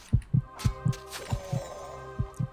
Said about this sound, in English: you will hear heartbeats in the background because I'm hurt